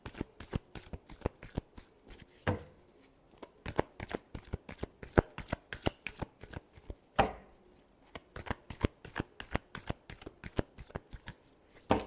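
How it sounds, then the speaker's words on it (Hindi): Tarot cards are shuffled by hand in quick, rhythmic riffling bursts, close and crisp, with two brief pauses between runs of rapid flicks. "last shuffle"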